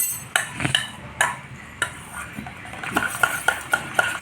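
Homemade mehndi paste stirred in a bowl, giving a series of sharp clinks and scrapes as a spoon strikes the sides. The taps come close and fairly regularly with short pauses, and no one talks.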